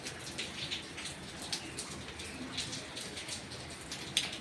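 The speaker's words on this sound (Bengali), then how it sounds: "আর বাইরে ওয়েদার, বৃষ্টি পড়ছে," Rain falls outside a home kitchen, heard as a faint, steady patter with scattered sharper drips against a quiet background.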